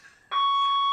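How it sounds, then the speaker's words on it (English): A fire alarm suddenly goes off and keeps sounding a loud, steady, piercing electronic tone with no break, after a quieter stretch of room noise. "a fire alarm accidentally went off"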